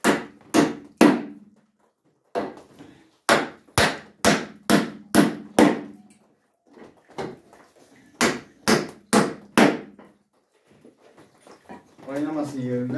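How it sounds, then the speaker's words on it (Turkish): Hammer blows drive nails into a wooden chicken coop, sharp loud strikes in quick groups of several with short pauses between, close up and alone, with brief speech at the end. "Şimdi şöyle biraz çivi atayım şimdilik."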